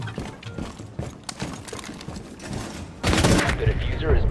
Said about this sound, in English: Just shotgun him from below.